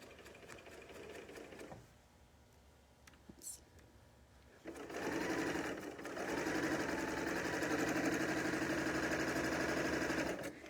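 Sewing machine stitching a rolled hem on a reusable fabric bag, a quiet start with a few clicks, then a steady, fast mechanical whirring hum that runs continuously at close range.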